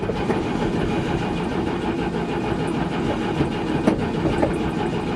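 A 1963 GMC V6 engine cranks with a continuous, noisy churn and catches for a single brief firing pop, then fails to keep running.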